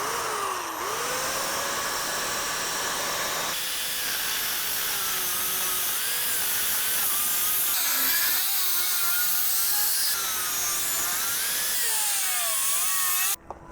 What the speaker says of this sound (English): I think it's going to be a lot less work if I just take the grinder and just cut it into pieces